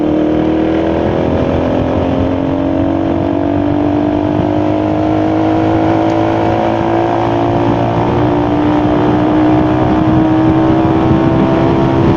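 A loud 200cc motorcycle engine steadily rising in pitch as it accelerates, sustained and close, with constant wind and road roar beneath.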